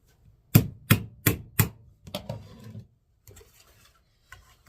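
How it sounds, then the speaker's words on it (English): Four sharp, evenly spaced hammer taps drive a bow pick into a grapevine wreath, followed by softer rustling and handling noises from the wreath materials, close and clear with no talking. "Let me hammer it in."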